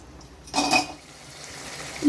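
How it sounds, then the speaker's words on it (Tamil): A spoon clinks and scrapes against a pot while stirring restaurant-style fish curry, a brief metallic clatter over a soft simmering background, with another light knock just at the end. "இந்த மாதிரி நம்ம ஒரு 10 மினிட்ஸ் கழிச்சு கிளறி விட்டுட்டு"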